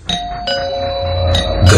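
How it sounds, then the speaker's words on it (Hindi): A doorbell chimes indoors with clear, ringing tones, struck several times in quick succession and fairly loud, with the bell tones sustaining between strikes. "कि तभी उसकी डोरबेल बजी।"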